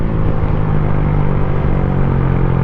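A Motorstar Cafe 150 motorcycle climbs an uphill road, its engine droning steadily and loudly with a constant mid-pitched hum and rumbling, heard up close as it pulls without any talking.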